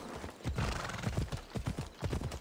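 Horse hooves clip-clop in the Assassin's Creed video game, a steady, close run of hoofbeats at a walking pace with no voices over them.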